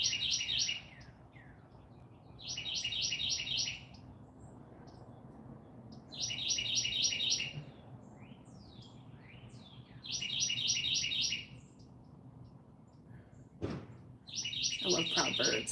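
Small birds sing outdoors in repeated bursts of bright, rapid chirping with quiet gaps between them, heard at moderate distance, with a single sharp knock near the end.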